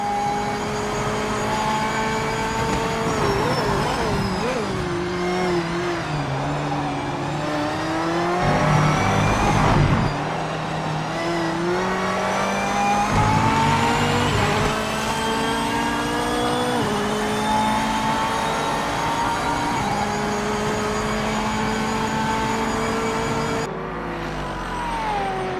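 A Corvette GT3 race car in the video game Project Motor Racing races on track, its engine screaming continuously and loudly as it climbs through the revs, drops on each gear change and brakes, and accelerates again.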